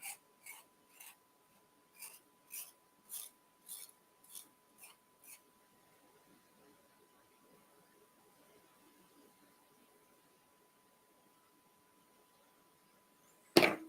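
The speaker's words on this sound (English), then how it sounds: "Get the burrs off of it and we'll install it." Small metal HO scale #5 double-slip turnout part being filed to remove burrs: about nine short, evenly spaced rasping strokes close up, then near-silence and a sharp knock at the very end.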